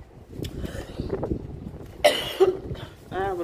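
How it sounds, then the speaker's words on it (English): A person gives a couple of short, moderately loud coughs near the microphone after some quiet talking. "I have a little cough, I'm sorry."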